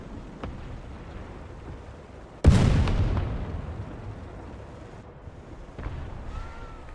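A Panzer IV tank game produces one loud, sudden cannon blast whose boom decays over a couple of seconds, followed by fainter distant battle noise.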